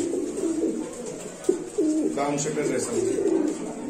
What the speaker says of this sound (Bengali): দর্শক আমরা আরেক জোড়া কবুতর দেখাচ্ছি আপনাদের